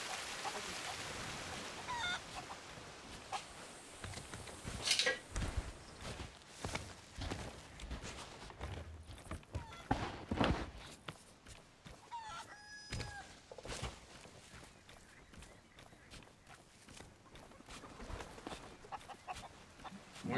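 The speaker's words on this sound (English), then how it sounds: "Chickens." Chickens in the game Sea of Thieves cluck and crow in scattered bursts, faint and close by, with occasional footsteps and soft game noises between calls.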